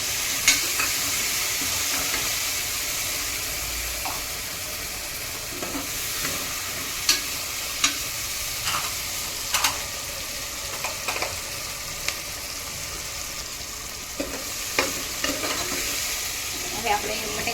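Chopped tomatoes stirred into a sizzling tempering of chillies in hot oil, giving a loud, steady hiss with scattered scraping and clinking from stirring, close up and without voices.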